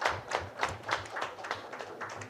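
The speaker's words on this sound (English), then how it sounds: "A round of applause." Sparse, rhythmic clapping from a small audience at a cardiology society scientific meeting, faint and fairly distant, a steady patter of individual hand claps without talk.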